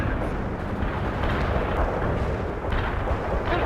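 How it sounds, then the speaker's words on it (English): An artillery strike in the video game World in Conflict, a continuous loud roar of blasts and rumble that fills the whole stretch without letting up, with no clear voices above it. "Artillery strike missed."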